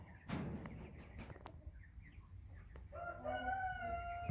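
American Bresse chickens in a pen cluck softly and shuffle about, then a rooster lets out a long crow near the end; the birds sound moderately close over low background noise.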